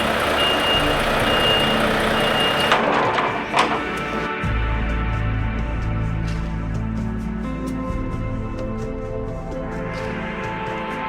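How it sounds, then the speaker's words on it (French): A truck pulls in at an outdoor table-tennis event, its repeated reversing beeps cutting through steady engine rumble and a loud thump, with the rhythmic beeping continuing close by throughout. "Le camion va arriver."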